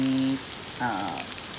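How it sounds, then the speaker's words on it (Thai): Rain falls steadily outside a wooden house in a valley, a constant close hiss of drops, with a voice speaking briefly over it. "เพราะว่า ฝนตกไง"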